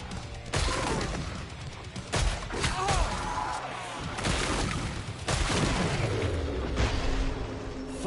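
Explosive rounds fire in Killing Floor 3, a dense stretch of overlapping bursts and booms with sharp cracks that keep going almost nonstop, loud and busy, with game voices and effects mixed in.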